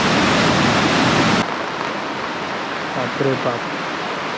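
A flooded river in the Konkan roars during heavy monsoon rain, a loud broadband rush at first that drops to a steadier, lower wash while a man briefly exclaims over it.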